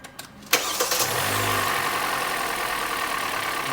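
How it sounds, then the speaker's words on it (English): A Hyundai Elantra that has been stalling cranks with a few short clicks and catches, then settles into a steady, fairly loud idle up close. "start the car"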